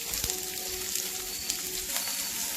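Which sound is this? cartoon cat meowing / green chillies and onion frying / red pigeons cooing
green chillies and onion frying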